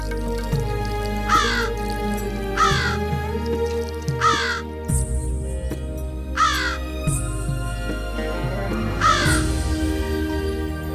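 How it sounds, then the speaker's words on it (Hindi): A crow caws repeatedly on a rooftop in a Tenali Rama TV episode, with harsh, evenly spaced calls standing out over a continuous musical background. "कौवा छत पे काव काव काव काव करे जा रहा है।"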